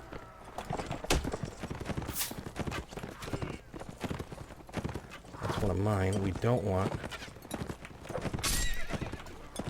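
Galloping horses ridden by horse archers in the Mount & Blade: Warband video game, with rapid hoofbeats throughout and loud neighs, as someone talks over the battle.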